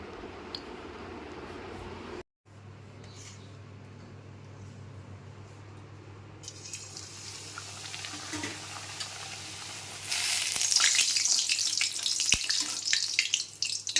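Hot oil in a wok hisses and crackles steadily, the sizzle swelling louder and brighter toward the end as food fries.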